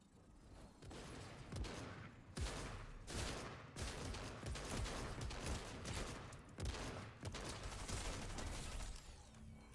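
Rapid SMG gunfire in Fortnite, dense repeated bursts of shots crackling almost continuously at a steady loud level while a player sprints, with no talk over it.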